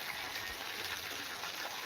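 Rainwater gushes and flows during heavy rain on a village day, a constant rushing wash of water with no breaks, fairly soft in level.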